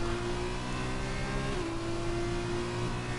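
Sustained high-revving race car engine at the French GP in a racing sim, a loud, steady buzzing tone that dips briefly mid-way as the driver shifts, then carries on.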